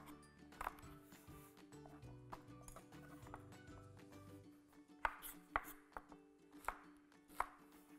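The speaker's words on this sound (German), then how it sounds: "die grüne Bohne schneide ich ca." Knife chopping green beans into about 3 cm pieces on a board, a run of quick dull thuds with several sharper, louder chops near the end, no talking.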